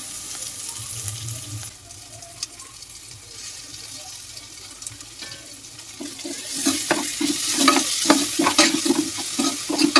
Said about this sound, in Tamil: நல்லா அந்த தக்காளி எல்லாமே ஜூஸி ஆகிற அளவு நம்ம கிளறி விட்டு.